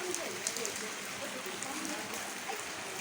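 Rain falls in a steady, broad wash of hissing drops, fairly soft and continuous, with faint voices mixed in beneath it.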